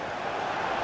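Crowd at a Manchester United versus Tottenham football stadium: a loud, sustained roar of many voices swelling steadily through a brief moment.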